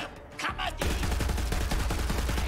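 Rapid automatic gunfire from a weapon in the video game Borderlands 3, a dense, loud burst of shots firing continuously after a brief quieter lead-in.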